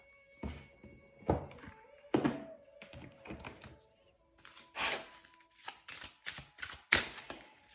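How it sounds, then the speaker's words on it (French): Oracle cards drawn from a deck make a run of light taps, slides and thumps, sparse at first and then quicker and busier, close and quiet. "j'ai envie de tirer quelques cartes"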